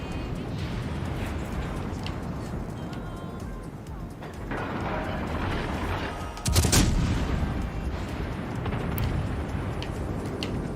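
Naval guns firing from warships in World of Warships Legends: a dense, continuous rumble of battle with a sharper, louder salvo cracking out partway through, muffled booms rolling under the din.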